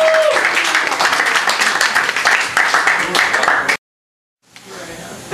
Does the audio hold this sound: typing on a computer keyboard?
no